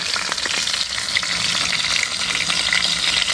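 Heron meat with whole onions and boiled eggs frying in hot mustard oil in a village kitchen, a loud, steady close-up sizzle with crackling spatters and occasional stirring scrapes throughout.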